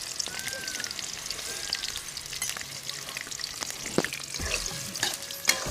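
Chopped onions frying in a pan during an outdoor chicken cook in a forest village setting, a steady close sizzle with occasional stirring clinks and scrapes throughout.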